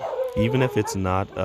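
Dogs bark and yip in short bursts close by, mixed in with someone talking steadily.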